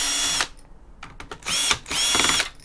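A power drill backs screws out of scrap material, with two long loud whirring runs separated by short ratcheting bursts and clicks, close up with no talking.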